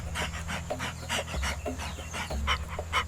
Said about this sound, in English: Panting is the only effective way to prevent fatal overheating.